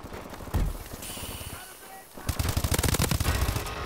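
Rapid automatic gunfire in the video game Call of Duty Advanced Warfare, with bursts of fast shots, a brief lull, then a dense stream of rounds, loud and close.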